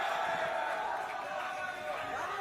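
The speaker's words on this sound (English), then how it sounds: "The crowd is chanting to the tune of his strikes." Crowd at an amateur MMA fight night, a steady roar of many voices chanting and cheering throughout, with a commentator's voice over the top.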